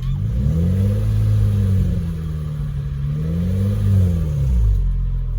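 A car engine revs up and eases back twice as the throttle is pressed, a loud, close, rising and falling hum over a steady idle.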